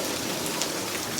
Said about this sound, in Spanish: Esta sí es pinche lluvia, no como la de allá.